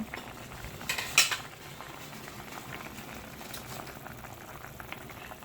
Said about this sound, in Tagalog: Kumukulo na siya, guys